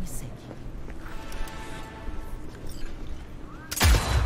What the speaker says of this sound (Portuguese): Aí você tá atirando no cara e não matou o cara